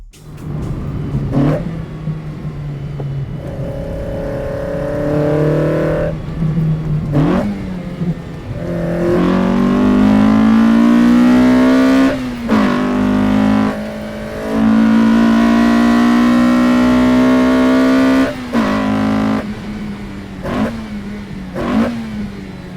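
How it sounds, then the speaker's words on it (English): A Toyota Corolla FX16 engine revs and accelerates through the gears, its pitch climbing and dropping repeatedly as the car drives past close by, loud throughout. "take the car out for a drive and test it"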